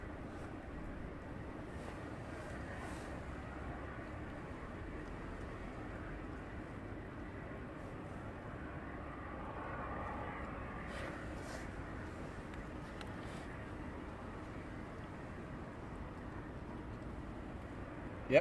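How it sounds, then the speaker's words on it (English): Aircraft taxiing at East Midlands Airport at night, a steady distant engine rumble and hum that holds constant throughout, faint and even, heard from a spotting position without talk. "so he's going to be taxiing towards us"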